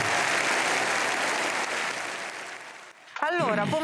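Dense applause fills an Italian parliamentary chamber, loud and sustained for about three seconds, then fades out as a voice begins speaking.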